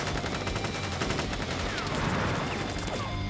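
A video game firing squad in Crisis Core Reunion opens fire with a dense, loud volley of rapid gunshots that runs unbroken throughout, with streaking ricochet-like sounds partway through.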